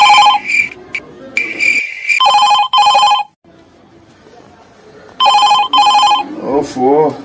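A mobile phone ringtone trills in repeated bursts, loud and close, with pauses between rings and a voice speaking briefly near the end.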